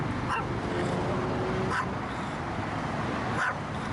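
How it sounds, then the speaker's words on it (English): A dog on a busy Las Vegas street gives a few short whimpers and yips, spaced about a second and a half apart, over steady traffic and crowd noise. "I'll call this dog Tough Tony."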